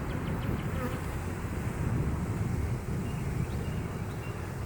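Dense, steady buzzing of many honey bees during an open hive inspection, a continuous close drone with light wind rumble and no talking.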